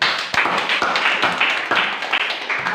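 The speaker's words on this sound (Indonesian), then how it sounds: "Tepuk tangan dulu." A small group of students claps in a classroom, a short burst of sharp, uneven hand claps close by that rings out briefly and then fades.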